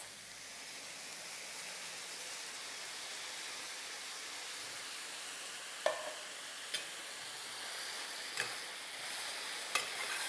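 Carrots and baked beans are tossed in a pan for chakalaka over a steady sizzling hiss, with a few sharp scrapes or clinks of the spoon against the pan.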